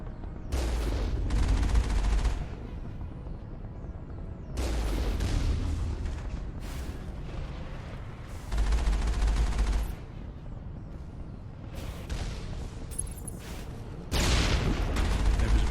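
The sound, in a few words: turret gunfire in the video game Mass Effect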